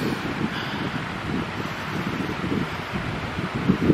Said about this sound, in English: Wow, listen to that wind.